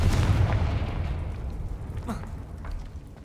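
A Confringo blasting spell goes off in Hogwarts Legacy, a heavy booming explosion with a rumbling low tail that fades out over a few seconds.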